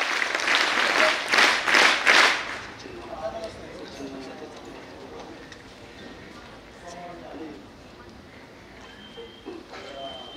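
A burst of loud audience applause at an honouring ceremony during a career-guidance event, lasting about two seconds before fading; a voice then speaks over the quieter room.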